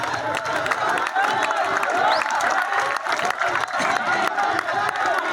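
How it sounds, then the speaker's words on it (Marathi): Crowd applause and cheering at a Dahi Handi human pyramid festival in Virar, a steady dense roar of clapping and voices filling the whole stretch, loud and continuous. "जोरदार टाळ्या"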